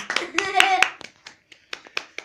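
Scattered clapping from a small audience welcoming a guest onto a Turkish cooking show set, a handful of sharp separate claps with a host's voice over the first part.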